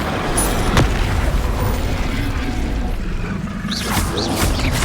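An Incendio fire spell cast in Hogwarts Legacy: a roaring, booming whoosh of flame held steady and loud throughout, with a few bright crackles and whistling bursts toward the end.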